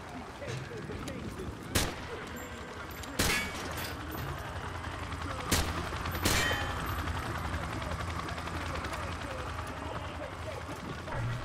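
Rifle gunfire from hip-fire in Call of Duty Modern Warfare 2, with a few sharp, loud shots spaced a second or two apart over a dense, continuous battle din.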